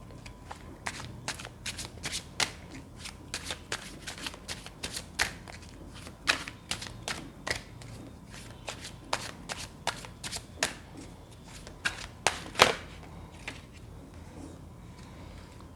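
Tarot cards being shuffled by hand, a rapid run of crisp riffling and flicking bursts, close and fairly quiet, repeating irregularly for about fifteen seconds without talk.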